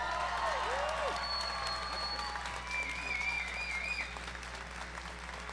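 Sustained applause from the audience at a Woodbury University commencement ceremony for the student speaker, a dense even clapping from a large crowd with a few cheers rising through it.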